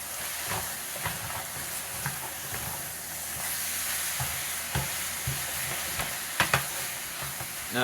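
Taco-seasoned ground meat sizzles steadily in a pan, with intermittent scrapes and clicks of a utensil stirring it, close and moderately loud with no talk.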